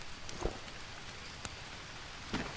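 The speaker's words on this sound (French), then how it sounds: "ça y se met à pleuvoir" Rain falling in the jungle survival game Green Hell, a soft continuous hiss of rainfall with a few faint scattered thuds and drops, low and steady with no talking.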